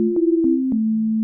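A soft synth pluck repeats three times at a steady pace, each note blooming gently over a sustained low tone, clear and alone.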